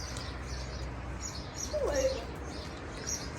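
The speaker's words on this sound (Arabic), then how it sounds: "حمام" A lone pigeon gives one soft, brief coo at middle distance at a Tunisian seaside spot, set against steady outdoor wash and wind noise.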